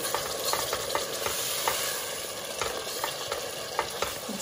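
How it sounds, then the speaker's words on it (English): Gram flour, spices, onions and passata fry in a pan under steady stirring, a dense continuous sizzle with repeated scraping strokes of a utensil, close and loud, with no voices. "Keep stirring."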